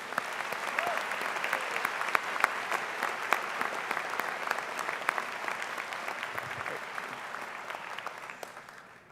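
A university winter commencement audience gives a long, even round of applause for award winners, a broad wash of many hands with crisp individual claps standing out, fading slightly at the end.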